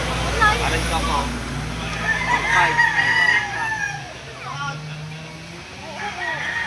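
Roosters crow repeatedly and chickens cluck amid a busy livestock auction market in Lipa, Batangas, with crowd babble and people talking nearby throughout.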